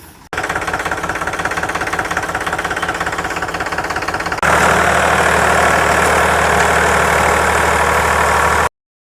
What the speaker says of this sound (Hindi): ट्रैक्टर दिखा दें तो देखो ये ट्रैक्टर अब जा कर के जुताई करने के लिए आया है